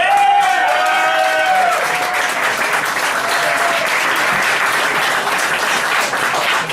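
Loud, sustained audience applause and clapping as a comedian named Mr. Herricane walks onstage at a comedy show, dense and steady from start to finish with crowd noise mixed in.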